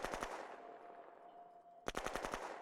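Machine gun fire in the strategy game Shadow Empire: a short rattling burst of rapid shots, a quiet pause with a faint hum, then a second rapid burst, fairly faint overall.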